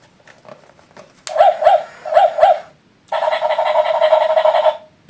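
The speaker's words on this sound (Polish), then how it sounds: "jest to pies, który chodzi i który wydaje jakiś dźwięk." A small electronic walking toy dog yips in a short burst of repeated barks, pauses, then plays a longer continuous synthetic tune, bright and close.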